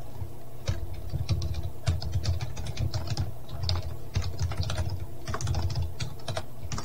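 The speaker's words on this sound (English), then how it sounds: "I'm having trouble typing today." Steady, close keystrokes clatter on a computer keyboard during a game-engine coding session, a continuous run of light taps with occasional heavier key hits and no talk.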